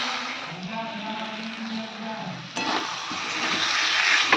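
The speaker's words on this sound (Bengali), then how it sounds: "গুঁড়ো লঙ্কা দিয়ে দেবো একটু ভালো করে কষিয়ে নিই" Fish curry spices and chili powder stir-fried in a pan give a steady sizzle. About halfway through it sharpens into a louder scraping and spattering burst as the mixture is stirred.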